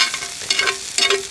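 Onion frying in sausage fat in a pan, a steady close sizzle with bursts of louder crackle and stirring scrapes, no voices.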